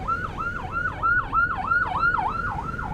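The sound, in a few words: ambulance siren passing on the road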